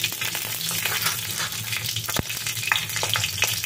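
Green chillies, bay leaf and whole cumin fry in mustard oil in a pan, giving a loud, constant crackling sizzle with a few sharp pops and stirring sounds.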